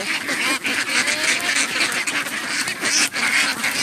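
A dense flock of young female ducks quacks continuously and loudly up close, the overlapping calls forming a constant noisy chorus.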